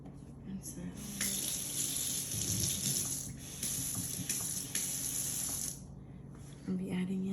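Water from a kitchen tap runs over a spoon being rinsed, a steady hissing splash lasting several seconds before it stops, with faint handling clatter at the edges.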